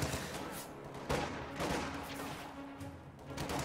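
Rifle and machine-gun fire in a World War II strategy game battle, a loud rolling fusillade of overlapping shots and bursts with sharp cracks that keeps going without pause.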